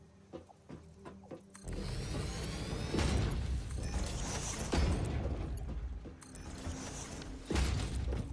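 Factory machinery producing rotors in the video game Satisfactory, a steady mechanical clanking and whirring hum with creaks, continuous and fairly close throughout, no talk.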